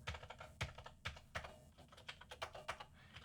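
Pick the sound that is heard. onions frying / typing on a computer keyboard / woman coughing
typing on a computer keyboard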